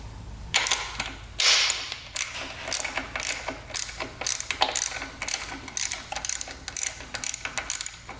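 Ratchet loosening a bolt from the air filter of a 1970s Harley-Davidson motorcycle: rapid close clicking strokes in repeated bursts, loud and steady, with brief pauses between pulls.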